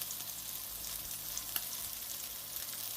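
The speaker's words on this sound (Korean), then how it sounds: "우리 보통 구울 때처럼 노릇노릇하게 구워주시면 됩니다." Pieces of meat fry in a pan, browning for braised kimchi, giving a steady, even hiss of sizzling fat with a faint clink midway and no voices.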